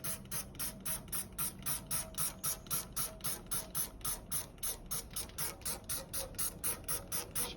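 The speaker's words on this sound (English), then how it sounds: "Once it's on, I'm just going to go ahead and spray this down." Cillit Bang Burnt On Degreaser is sprayed from a trigger bottle in a rapid, even series of around twenty short hissing bursts, close and clear, each pump following the last with barely a pause.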